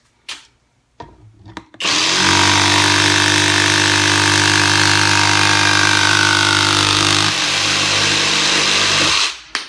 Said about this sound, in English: Let's cut through this guy and see how it does it.